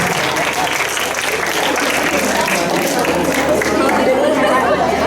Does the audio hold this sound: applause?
yes